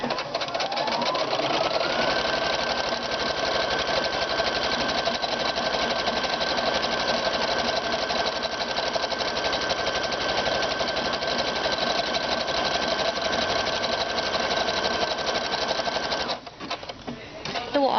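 A sewing machine stitches a buttonhole automatically, running a steady, fast mechanical needle rhythm for about sixteen seconds before stopping abruptly, followed by a few small clicks.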